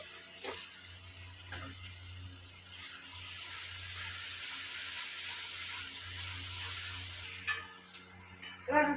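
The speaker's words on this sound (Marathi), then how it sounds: "कांदा गरम झालाय टमाटर टाकून देते थोडस मीठ टाकते" Chopped tomato and salt hitting hot onion in a pan, a steady close sizzle and hiss holding throughout, with a few stirring clinks at the start and end.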